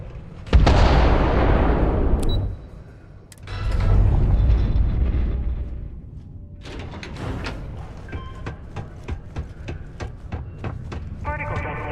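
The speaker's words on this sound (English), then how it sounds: "In the event of unforeseen tremors, detonation occurs In 5, 4, 3, 2, 1." Explosive detonation in the Starfield video game, with a big booming blast followed by a second rumbling surge, then a series of sharp clanking impacts and debris rattles trailing off.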